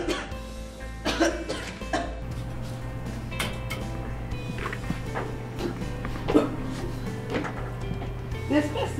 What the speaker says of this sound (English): I cough until I can't breathe.